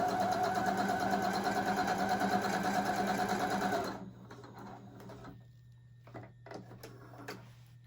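A beginner sewing machine runs steadily through thick, textured upholstery fabric, its fast even stitching rattle loud and continuous for about four seconds before cutting off, leaving a low hum and scattered small clicks and handling noises.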